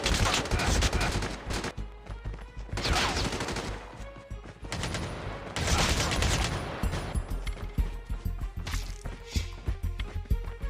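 Gunfire in the mobile shooter game Call of Duty Mobile: loud dense bursts of automatic fire and explosive shots in several waves, with rapid repeated cracks toward the end.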